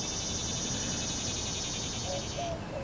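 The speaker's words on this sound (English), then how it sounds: "Got a different sounding cicada this morning." Cicada calling in a summer garden, a loud, buzzing trill with a rapid pulsing texture that holds steady for about two and a half seconds, then cuts off, leaving faint background with a few brief chirps.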